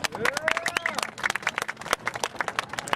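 Spectators at a police K-9 demonstration give a short round of applause for a Dallas police decoy officer, scattered clapping close by with a voice over it at the start.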